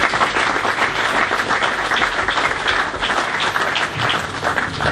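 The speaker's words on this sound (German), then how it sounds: "Dem Applaus entnehme ich, dass es Ihnen geschmeckt hat." Dense, loud applause from a room full of people at a press conference following the EHC Freiburg vs. ERC Sonthofen ice hockey game, sustained evenly throughout with no pauses.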